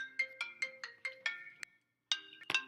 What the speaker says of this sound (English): Whoops, the phone was ringing.